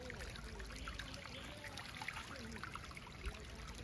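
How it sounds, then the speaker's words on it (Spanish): Water trickles and burbles in a shallow stream in the woods of San José de las Matas, Dominican Republic, a faint continuous babble with no one speaking. "Se siente corriendo el agua."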